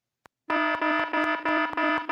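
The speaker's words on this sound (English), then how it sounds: "they have set continuous alarms 5 minutes apart from each other to ensure they wake up" An alarm clock goes off in a loud, buzzing electronic tone that beeps in rapid repeated bursts after a brief click, close and alone.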